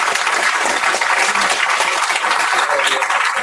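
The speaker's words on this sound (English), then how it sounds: "Let's have a round of applause for Peter." Audience at a tech meetup clapping for a speaker after his talk, a short burst of dense, steady applause throughout.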